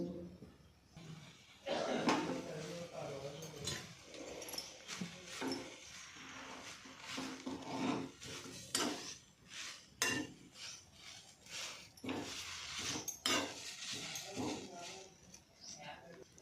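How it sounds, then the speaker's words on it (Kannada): Drumstick leaves and curry leaves being stirred as they fry in a pan, with repeated scraping and clinking of a utensil against the metal in irregular bursts while a person talks over it. "ಎರಡನ್ನೂ ಒಟ್ಟಿಗೆ ಸೇರಿಸಿ ಹುರಿಯಿರಿ ಕೈ ಬಿಡದೆ ತಿರುತಾ ಬನ್ನಿ"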